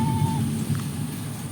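Rain and thunder outside during a storm, a steady low rumble and dense broadband wash holding throughout with no clear separate thunderclap, moderately loud and close.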